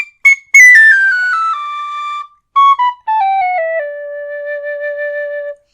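A new high D tin whistle plays a clear descending run of bright, pure notes, each held briefly with small pauses between phrases, then settles on a long sustained tone, loud and close with no talking.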